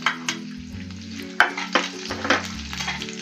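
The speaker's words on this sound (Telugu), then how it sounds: "కొంచెం నూనె పోసుకొని అందులో పోపు సమాన్ వేసుకుని వేయించుకోవాలి" Mustard seeds, chana dal, urad dal and fenugreek tempering in hot oil in a pan for gongura pickle, giving a steady close sizzle with sharp crackles and pops, with stirring scrapes and a low hum underneath.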